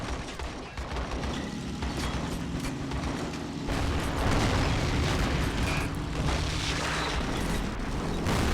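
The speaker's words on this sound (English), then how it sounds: "AP grenades actually worked." AP grenades go off in the Men of War: Assault Squad 2 war game, dense rumbling blasts and battle noise filling the whole stretch at steady high loudness.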